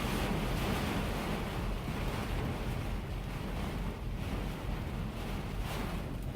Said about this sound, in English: It just feels like that the wind has calmed down just a little, but it's just a little.